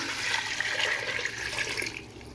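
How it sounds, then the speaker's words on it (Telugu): Water rushes into a pot of rice for vegetable biryani in a continuous, gushing pour that holds steady for about two seconds before easing off, close and moderately loud. "వాటర్ పోస్తున్నా చూడండి"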